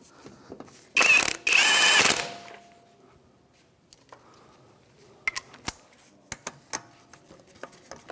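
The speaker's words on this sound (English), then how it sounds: "with the 17 millimeter socket, we'll go ahead and snug up these bolts." A ratchet with a 17 mm socket snugs up wheel hub bolts on a 2007-2013 Mitsubishi Outlander. One loud burst of rapid clicking comes first, then a scatter of quieter, separate clicks and taps close by.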